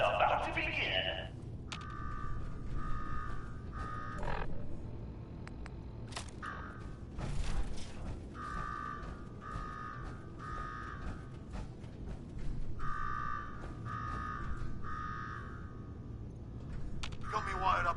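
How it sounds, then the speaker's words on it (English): An alarm in the video game Fallout 4 sounds in repeated pulsing bursts, each about a second long, continuing throughout over low background noise with occasional thuds. "Now go shut off that damn alarm."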